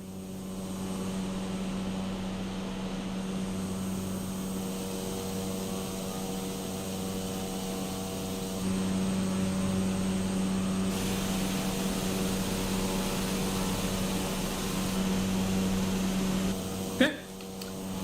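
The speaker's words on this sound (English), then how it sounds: "Cessna 208B Grand Caravan. Beautiful aircraft, eh?" A Cessna 208B Grand Caravan's turboprop engine drones in Microsoft Flight Simulator, a steady, even hum with a constant tone that holds for the whole stretch and swells slightly partway through, with a brief click near the end.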